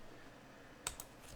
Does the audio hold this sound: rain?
no